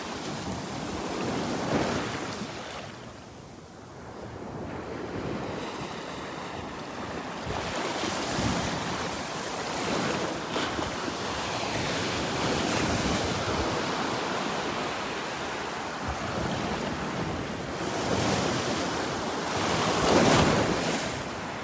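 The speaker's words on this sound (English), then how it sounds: "Those waves are pretty strong." Strong surf breaks steadily on a Gulf beach at Delnor-Wiggins, a continuous roar of waves with wind buffeting the microphone and no voices.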